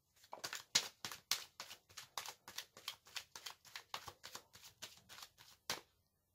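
Tarot cards being shuffled and drawn, a quick run of about twenty crisp, evenly spaced riffling snaps, close and fairly quiet, ending in a short pause.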